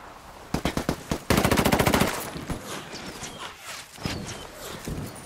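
Automatic gunfire in the video game Ghost Recon Wildlands: a short burst of shots, then a rapid, loud sustained volley, followed by softer scattered clatter and footsteps-like movement.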